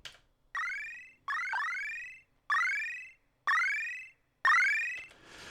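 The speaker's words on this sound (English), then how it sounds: "So I've got it set to make like a chiptune sound at the moment." Chiptune-style arpeggiated synth tones from a drum machine sound module, five bright rising sweeps repeating in a steady pattern with short gaps between them, clean and alone with no talk.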